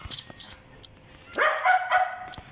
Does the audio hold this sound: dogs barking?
yes